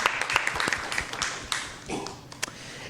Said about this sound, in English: Round of applause for our amazing UHS scholars.